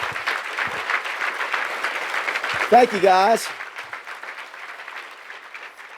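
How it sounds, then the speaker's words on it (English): Applause from an awards-ceremony audience honoring high school football award winners, moderate and continuous, with someone briefly speaking over it and a short burst of feedback or noise near the middle. "So let's give a round of applause to all our high school Broyles Award winners"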